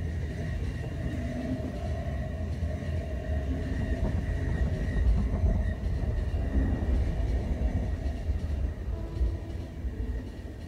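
Train ride in the video game The Final Station: a continuous low rumble of the rolling carriage with faint rhythmic clatter and tonal hum, steady and fairly loud, no talking.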